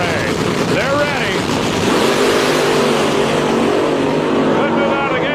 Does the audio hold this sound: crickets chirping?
no